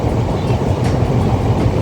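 A small train on a short hill railway rumbles steadily, loud and close, as a continuous low roar of wheels and carriage with no voices.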